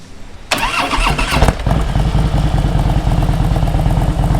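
A Harley-Davidson Heritage 1700cc motorcycle cranks briefly with the starter, then fires and catches into a loud, close, deep lumpy idle with a steady rhythmic thump, no talking over it.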